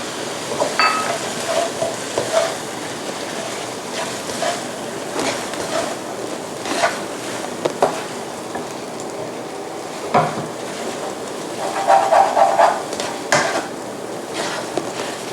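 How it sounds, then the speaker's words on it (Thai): Fish maw with soy sauce, Chinese liquor and black pepper being stir-fried dry in a wok: a continuous soft sizzle under repeated scraping and clinking of a utensil against the pan, close and steady, no talking. "ผัดจนเขาแห้งได้สักพักหนึ่งนะคะ"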